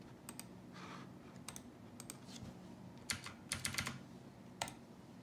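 Keys clack on an OMOTON MK201 tenkeyless mechanical keyboard with Outemu Blue switches, sharp clicky presses arriving singly and in quick short bursts, close and fairly quiet over a low background hum.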